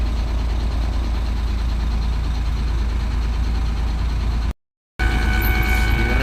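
A Hino Ranger FM 285 truck carrying pile-driving equipment idles at a stop on the road, a deep steady rumble heard close and continuous, broken once by a brief dropout before resuming.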